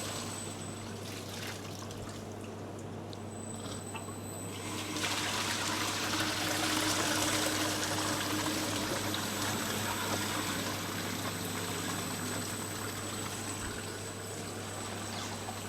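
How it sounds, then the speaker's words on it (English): Hot water drains steadily out of a homebrew beer system after the recirculation is switched off. It makes a continuous trickling and pouring rush that grows louder after a few seconds under a low mechanical hum, with no voices. "So I can turn off the recirculation and empty the hot water."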